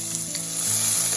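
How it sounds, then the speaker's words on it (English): Garlic sizzles and fries steadily in a hot pan for a vegetable glass-noodle stir fry, a close, continuous crackle with no talking. "Cook your garlic for about 2 minutes"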